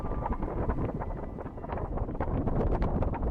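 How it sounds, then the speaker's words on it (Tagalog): A strong, roaring gust of wind rushes past, dense and blustery, buffeting steadily and growing slightly louder toward the end, with no speech. "may biglang dumaan na malakas na hangin sa harap niya."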